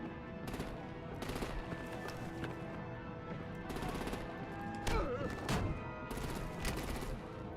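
Sustained automatic gunfire in the Batman: The Enemy Within game, dense rapid bursts over a steady rumbling backdrop of a vehicle assault, loud and continuous with brief heavier volleys.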